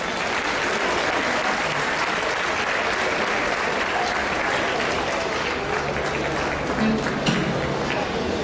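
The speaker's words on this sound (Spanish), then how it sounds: "Gracias, un aplauso por favor para ellos." A live audience applauds steadily for a group of dancers about to perform a danzón, dense continuous clapping filling the room from start to finish, with some chatter mixed in.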